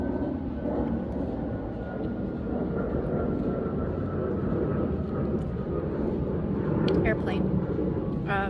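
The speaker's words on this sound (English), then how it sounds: "Airplane." Airplane flying overhead, a steady distant low roar that swells slightly toward the end, heard faintly behind an indoor room tone with a brief clatter near the close.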